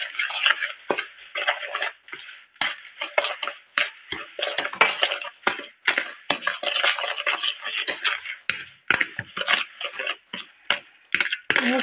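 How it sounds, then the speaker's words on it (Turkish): Sugar and eggs are mixed by hand in a bowl, giving close, rapid scraping and tapping strokes in an irregular rhythm for about twelve seconds. "Şekerle yumurtalarımı şöyle güzelce karıştıralım."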